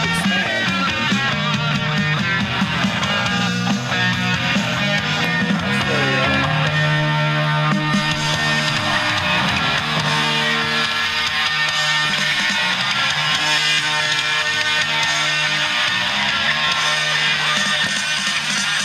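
Music plays back from a cassette tape on a Sanyo M7110K recorder, a dense, continuous full-band mix with steady loudness throughout and no talking over it.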